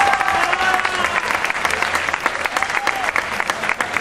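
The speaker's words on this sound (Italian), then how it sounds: "Io farei ancora un applauso alla Senichelli." Audience applause at a Miss Drag Queen Veneto drag show in Padova, a dense, steady wash of clapping from a live crowd with a few cheers and some voices over it.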